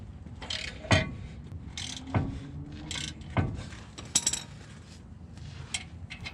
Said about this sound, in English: Just gonna get that new ball joint tightened down real quick.